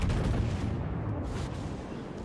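Ship secondary guns firing in World of Warships on the French battleship Republique, a dense, continuous rumble of booming shots that stays loud and steady throughout with no voices.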